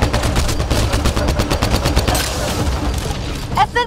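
Rapid automatic gunfire from a sci-fi shooter firefight in Mass Effect Andromeda, a dense continuous burst of shots with a few brief distant voice fragments near the end.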